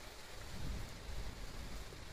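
Faint low rumble of a distant, receding thunderstorm under a soft wash of rain, quiet and far off.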